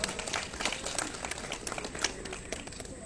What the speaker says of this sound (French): Et on peut effectivement les applaudir.